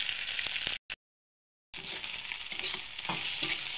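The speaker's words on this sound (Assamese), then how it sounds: "কণীখিনি দিয়াৰ পিছত মই এইখিনি লৰাই দিছোঁ" Eggs frying in a pan for pasta are stirred with a spatula, a close hiss and scraping sizzle that cuts out briefly to silence, then resumes steadily.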